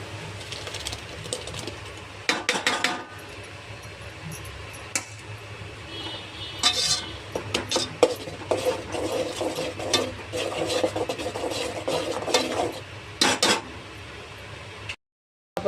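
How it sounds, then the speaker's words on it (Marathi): A paste of tomato, capsicum, onion, garlic and ginger is stirred into a hot pan, giving a steady sizzle with scraping spoon strokes and a few sharp clinks against the metal, with no voices. "आता आपण ह्याच्यामध्ये ही पेस्ट टाकणार आहोत।"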